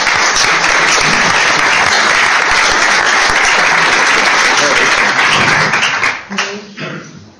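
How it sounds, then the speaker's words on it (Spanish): Loud, dense applause from an audience, close and sustained for about six seconds before tapering off into scattered claps and quiet. "un aplauso para ellos"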